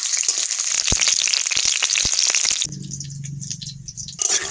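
Washed lentil dumplings (bori) frying in a little oil in a home kitchen, loud close crackling and sizzling with sharp pops, then a softer, steadier bubbling hiss with a low hum before the crackle returns.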